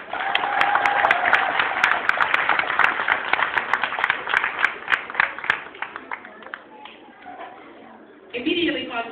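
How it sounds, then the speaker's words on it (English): Clapping from a graduation ceremony audience, scattered hand claps over a room where a voice and murmuring continue, tapering off before a burst of louder sound at the end. "So I ask you to join me in giving them a round of applause."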